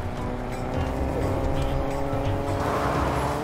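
A car drives in the video game Fortnite, climbing a mountain road with a steady, loud engine drone and some tire noise throughout. Voices talk over it.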